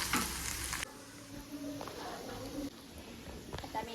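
Spiced mixture with oil and chopped coriander stirred in a pan at home, giving soft scraping and light sizzling textures that run steadily throughout, with a louder burst at the start.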